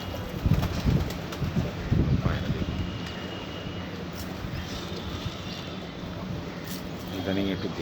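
Hungry pigeons, fed later than usual, coo in bursts, clustered throaty calls near the start that ease into quieter, scattered cooing over a steady outdoor background.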